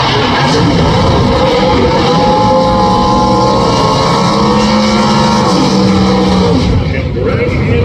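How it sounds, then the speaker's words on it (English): Two Pro Stock drag racing cars roar loudly at an NHRA drag race in Gainesville, a dense, sustained engine blare with rising pitch sweeps and a trailing fade near the end. "Here are the final 2 Pro Stock cars in session"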